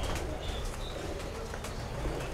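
Pigeons coo softly at a rooftop loft in Lahore, a low continuous murmur with a few faint chirps over steady background noise.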